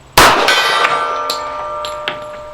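A .45 round from a custom Integrity Arms Colt pistol strikes a steel gong target at an outdoor range, giving one sharp loud clang that rings on and slowly fades, with a couple of fainter metallic ticks behind it.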